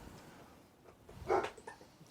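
A dog barks once in another room, a single muffled, moderately distant bark over a quiet room background.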